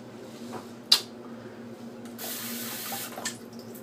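Tap water runs into a sink while someone rinses off after a shave, a soft steady flow with a brief splash and a louder gush midway, close by and with no talking.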